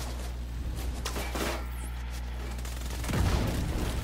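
Grenade blasts and gunfire rumble through a first-person shooter game, with dense low booms throughout and a heavier explosion surge near the end, loud and close.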